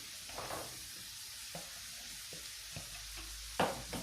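Onions fry in a pan for a chicken breast and vegetable dish, giving a steady low sizzle with a few soft stirring taps, quiet and close, with no speech.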